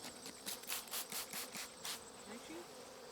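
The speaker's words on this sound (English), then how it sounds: "there are some bees in here right now" Honeybees buzz in repeated short bursts, rising and fading close by, with a faint steady background hum.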